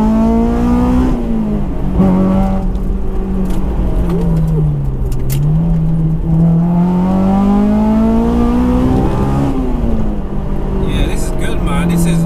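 A modified Honda S2000 drones steadily while being driven, its engine pitch rising and falling gently under continuous nearby conversation from the occupants.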